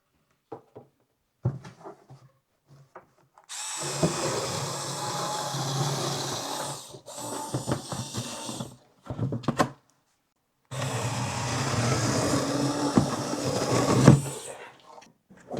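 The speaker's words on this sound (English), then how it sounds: "cut your cardboard down to size by pressing the button and squeezing" Cordless LKCTB electric scissors slicing through double-folded quarter-inch cardboard, a steady buzzing motor with crunching cuts in two long runs, briefly interrupted by a pause and a few short bursts, with scattered clicks and handling thumps before it starts.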